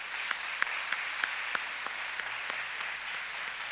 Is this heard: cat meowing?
no